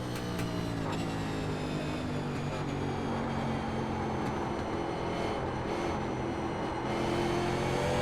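A 1987 NASCAR Cup car in the iRacing game roars through a road-course section at Watkins Glen while braking, its engine a loud, steady droning howl with only slight shifts in pitch.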